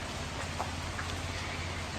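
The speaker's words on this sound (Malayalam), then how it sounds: "ഇപ്പൊ വൈകുന്നേരം ആയപ്പോഴാണ് മഴ തുടങ്ങി" Steady evening rain falls, a continuous soft hiss of drops on surfaces with a low hum beneath, moderately faint and unbroken, with no voices.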